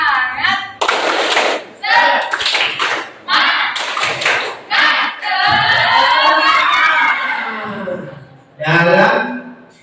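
A standing group in a classroom training session performs the tepuk semangat clapping game, loud chanted voices alternating with bursts of rhythmic hand claps in short, punchy phrases.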